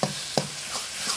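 Spice masala frying in oil in a pan for a home chicken dish: a steady bright sizzle with two quick stirring scrapes at the start and softer stirring after.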